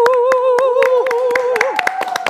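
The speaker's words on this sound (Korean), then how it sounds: "박수와 함께 시작했는데요" A small studio audience at a live Twitter Blueroom broadcast claps in a quick, even rhythm of sharp, close hand claps while a voice sounds steadily underneath.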